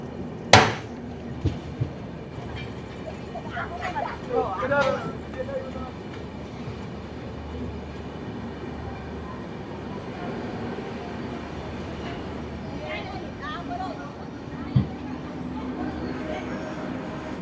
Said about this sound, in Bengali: ট্রেন কিন্তু এখন কন্টিনিউ 127-128 কিলোমিটার প্রতি ঘন্টায় ছুটে চলেছে বালেশ্বরের উদ্দেশ্যে।